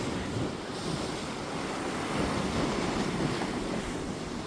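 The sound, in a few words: sea waves sound effect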